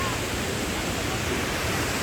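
A steady, dense rush of falling water roars without a break, broad and constant like a nearby waterfall, here Gira Falls in Gujarat carrying red floodwater.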